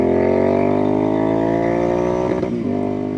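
A Royal Enfield INT650 custom motorcycle engine held at high revs, bouncing steadily against the rev limiter, loud and close, with a brief stutter near the end.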